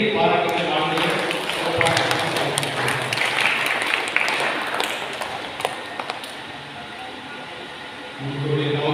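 A church congregation at a second Sunday of Lent Mass breaks into sustained, dense applause that fills most of the moment, with a speaking voice before it starts and again as it dies away.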